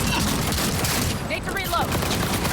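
Gunfire during a raid in the video game Cyberpunk 2077, a dense, continuous fusillade of shots under voices speaking, with sharp bursts layered throughout the whole stretch.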